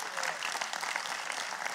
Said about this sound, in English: Give Jesus a hand clap for that.